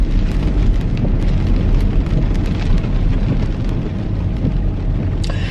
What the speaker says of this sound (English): It's rainy, but it's not windy.